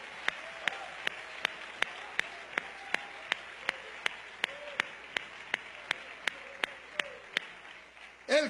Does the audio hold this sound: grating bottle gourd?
no